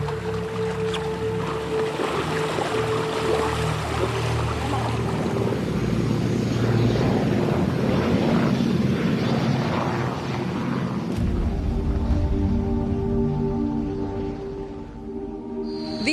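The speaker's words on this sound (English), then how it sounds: "This helicopter that's just touched down behind me here" A helicopter's rotor and engine rumble steadily and loudly nearby as it touches down in the Australian outback during floods, with a low droning hum continuing throughout as the craft settles.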